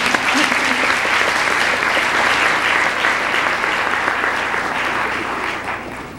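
Sustained audience applause at a university lecture, dense steady clapping from a large crowd that fades slightly toward the end.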